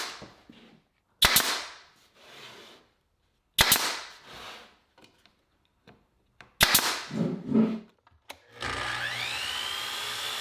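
Wood door casing molding fastened with 1-inch nails in a workshop, three loud sharp nail-gun shots spaced a couple of seconds apart, each followed by brief handling noise, then a steady high machine whine at the end.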